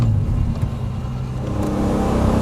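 A first-generation Acura NSX engine revving hard, a loud, dense, continuous roar with a steady low drone throughout, heard from inside the car with no talking.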